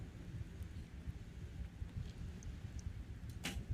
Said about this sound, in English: I think I can hear thunder in the background